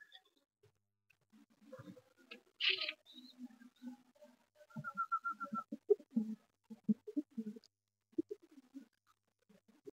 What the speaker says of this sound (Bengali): মাক্কাচিনি পায়রা, রাজস্থানী লাইনের পায়রা।